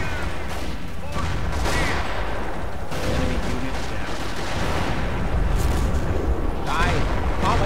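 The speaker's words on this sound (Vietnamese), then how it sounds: "Đây đảm bảo có hai đội cối thay phiên nhau bắn rồi" Booming mortar fire from two alternating teams in the World War II strategy game Company of Heroes, with heavy thuds and blasts landing at uneven intervals over a constant rumble of battle noise.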